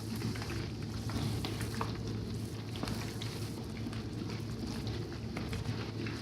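Steady, dense sizzling and crackling of food deep frying in hot oil, close up and continuous throughout with no talking.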